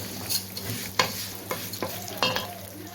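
Vermicelli fries in a pot for Egyptian koshari with a continuous sizzle, while a spoon stirs and scrapes the pot in several distinct strokes, close and fairly loud.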